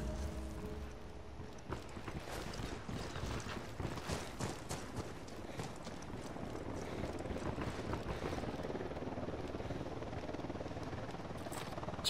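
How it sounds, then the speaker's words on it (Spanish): Helicopter approaching in the video game Ghost Recon Wildlands, a steady, dense rotor and engine roar that holds at a constant level throughout, with no voices. "Se acerca un helicóptero."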